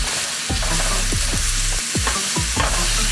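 Onions and portobello mushrooms sizzle steadily in a frying pan with a little sauce, while a utensil stirs them in repeated scraping strokes, about five or six sweeps over a continuous close fry.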